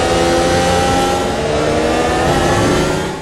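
An F1 race car engine screaming at high revs in a racing video game at Watkins Glen, a loud continuous whine held along a straight while slipstreaming, steady and close before easing slightly at the end.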